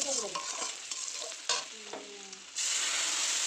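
Garlic paste and a spoonful of sugar hit hot oil in a kadai, sizzling loudly with scraping stirs and clinks of a spatula, then settling into a steady close frying hiss.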